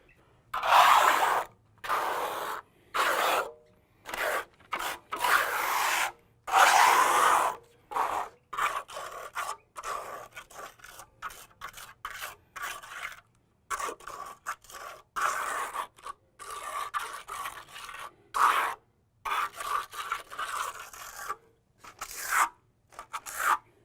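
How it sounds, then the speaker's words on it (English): A trowel scrapes an acrylic overlay scratch coat onto concrete in repeated rasping strokes, each a short gritty scratch separated by brief pauses, close and fairly loud throughout. "the trowel is actually going to scratch the concrete. If you don't hear a scratching noise,"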